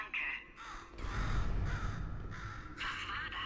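A crow in Portal 2 gives a string of harsh, close caws in irregular bursts, over a low background rumble.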